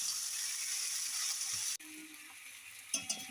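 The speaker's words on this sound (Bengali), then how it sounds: "ভালো করে সেটাকে কড়াইয়ের মধ্যে" Crab, Malabar spinach and pumpkin sizzle steadily in a wok for a chorchori, then the frying sound shifts and a few stirring scrapes and knocks are heard near the end.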